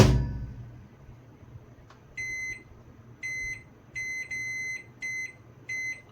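A microwave oven with grill, under repair, emits a series of high electronic beeps as it powers on, six short tones in an uneven rhythm after a brief thump, close and clear with no speech.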